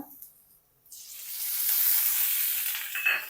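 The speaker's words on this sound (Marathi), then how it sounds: "आणि हा कांदा सुद्धा चांगला ह्याच्यामध्ये भाजून घ्यायचा तेलामध्ये।" Chopped onion frying in oil in a pan for dhaba-style shev bhaji: a quiet start with a faint clink, then a steady, close hissing sizzle that swells and holds.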